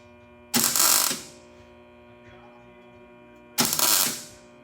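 Welding an oil tank pan to the floor pan on a NASCAR Winston Cup Buick: two loud, close bursts of crackling welding, each about half a second long, separated by a pause with only steady electrical hum.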